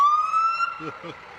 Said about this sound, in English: followed by one of the fire engines from the Osage Beach Fire Department